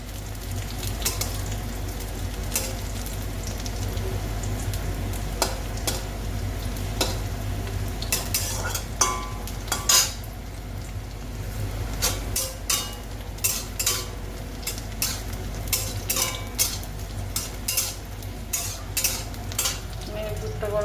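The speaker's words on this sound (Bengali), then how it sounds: "এবার বেগুনটা ভালো করে ভেজে নেব।" Eggplant frying in a pan with chopped onion and tomato, a steady oily sizzle under repeated spatula scrapes and taps against the pan, close and continuous for a long stretch.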